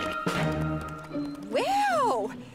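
Children's voices imitate horse noises in an animated series, a short run of whinnying, neighing calls rising and falling, loud and close after a moment of other vocal sounds.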